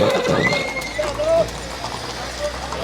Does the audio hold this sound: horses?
yes